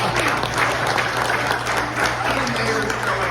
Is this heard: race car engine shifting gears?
no